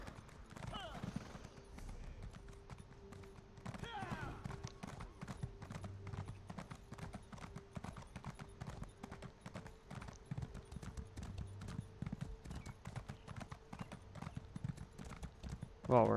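Horse hooves clip-clop steadily in Elder Scrolls Online as the mount travels, a fast, even rhythm of light thuds running continuously at moderate level.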